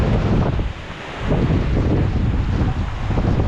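Strong typhoon wind roars and buffets close to the microphone, dipping briefly before surging back into a loud, continuous rush.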